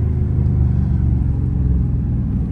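A Dodge Charger Scat Pack on the move gives a loud, deep, continuous engine and exhaust rumble from inside the car, steady and throaty with slight swells.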